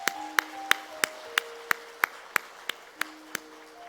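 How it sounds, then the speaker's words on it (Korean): A church congregation at a Sunday afternoon service for an elder's retirement and installation claps in slow, evenly spaced unison beats, about a dozen sharp claps in a row, with a faint organ tone lingering underneath. "우리 크게 박수 한번 하겠습니다."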